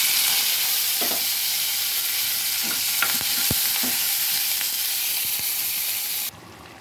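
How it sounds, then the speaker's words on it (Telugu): Fish pieces frying in hot oil, a loud, steady sizzle and crackle close by, broken by a few soft clinks and taps of stirring, with no voices. "ఇప్పుడు చేప ముక్కలు వదులుదాం."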